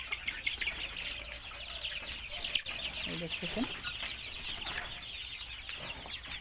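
Sonali breed chickens on a poultry farm on a cold afternoon, clucking and chirping together in a soft, continuous chorus, with a brief flutter of wings, while someone speaks briefly over them.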